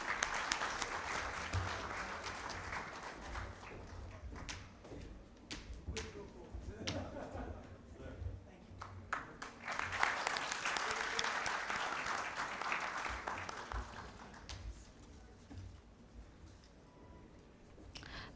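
Audience applause fills the hall at a trauma medical conference award presentation, two broad swells of clapping separated by a quieter stretch, with scattered sharp claps and some voices underneath.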